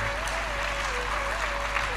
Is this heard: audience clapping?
yes